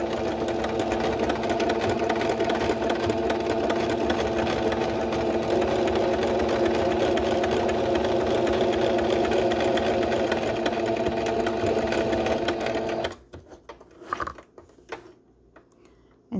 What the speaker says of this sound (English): And I'm actually sewing it below the zigzag stitch.